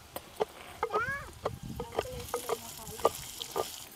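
Chopped onions dropped into hot oil with chillies and curry leaves, frying with a light sizzle and sharp spoon-on-pan clinks and scrapes at irregular intervals, a faint voice-like squeak in the background.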